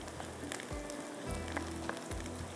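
Prawn masala for a Madrasi jheenga curry sizzles in a pan with a steady, soft crackle and occasional brief scrapes, with no voices.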